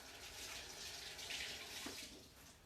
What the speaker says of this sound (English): Then I'll wash my hands really quick.